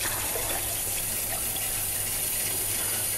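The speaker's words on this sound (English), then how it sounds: "I'm going to fill this glass with tap water" Cold water runs steadily from a kitchen tap into a glass, a continuous broadband gush close by with no talking over it.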